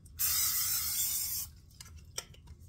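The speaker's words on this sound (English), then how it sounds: "first in a casserole dish, you're going to spray it" Short burst of cooking spray hissing into a casserole dish, one steady spray of about a second followed by a few faint clicks and taps, close and quiet.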